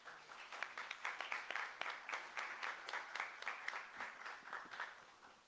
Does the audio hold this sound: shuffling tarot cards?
no